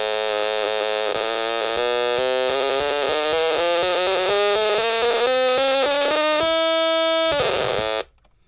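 An original UK-made Stylophone, the vintage stylus-keyboard instrument, plays a loud, buzzy, reedy tone that climbs steadily in stepped notes for about eight seconds, then stops abruptly.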